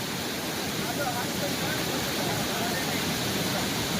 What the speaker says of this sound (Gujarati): આ પાણીની સ્પીડ આપ જોઈ શકો છો।